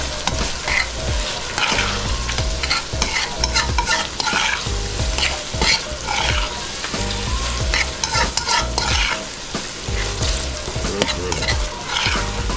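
A spoonful of browning sauce is stirred into vegetables simmering in a pot, with a steady close sizzle and bubbling and repeated soft scraping strokes of the spoon throughout.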